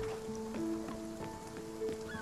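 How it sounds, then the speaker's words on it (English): Steady rain in the video game Spiritfarer patters softly beneath sustained, melodic game music, a faint continuous wash with no voices. "It's raining quite a lot."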